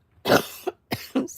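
A woman's cough during a live paper flower tutorial: several short, dry bursts in quick succession, close and fairly loud, with no talk over them.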